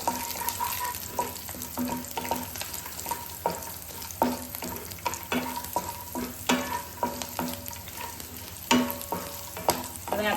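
Curry leaves and coconut chutney ingredients sauté and stir in a pan, with a steady sizzle and repeated clinks from a stirring spoon, close and moderately loud.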